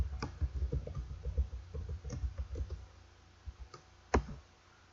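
Quick bursts of typing on a computer keyboard while coding a weather app, a run of rapid soft clicks followed by a few sparse keystrokes and one sharper tap, close and without talk.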